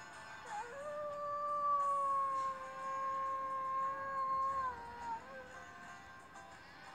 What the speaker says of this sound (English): I just love that howl.